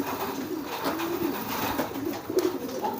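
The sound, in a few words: pigeons cooing while being fed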